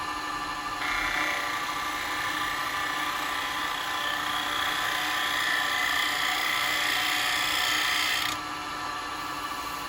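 A woodturning tool held against a bench grinder to form a longer bevel, giving a steady, high metallic grinding whine that starts abruptly, holds for about eight seconds and then cuts off, leaving the motor's lower hum.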